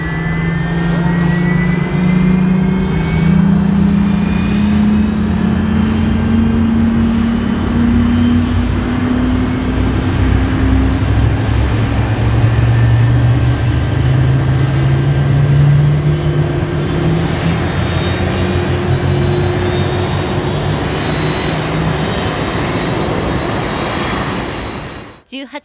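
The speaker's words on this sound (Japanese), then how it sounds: "18時59分、多くの人々に見守られる中、熊本空港を離陸しました。" An ANA Boeing 747-400D jumbo jet takes off from Kumamoto Airport, its loud engine roar holding steady with rising whine tones, close and continuous for about 25 seconds before cutting off, with faint voices underneath.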